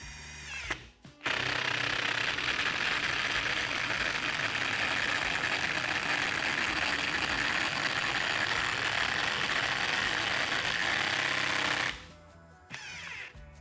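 A Procraft Industrial cordless impact driver on first speed drives a 145 mm long, 8 mm lag screw, a loud continuous hammering rattle lasting about ten seconds that starts and stops abruptly.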